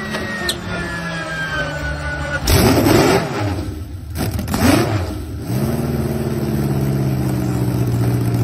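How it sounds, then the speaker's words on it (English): Two V16 engines installed on a boat rumble at a steady low pitch, surging through two loud revving bursts before settling back into an even, continuous drone. No one speaks. "This person installed two V16 engines on a boat. Just wait until you hear how they sound."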